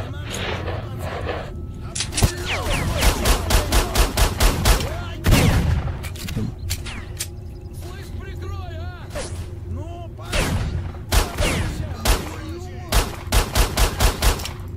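Gunfire from the video game STALKER: Shadow of Chernobyl crackles in rapid bursts of repeated shots, loud and close, broken by short pauses, with a player talking excitedly over parts of the fighting.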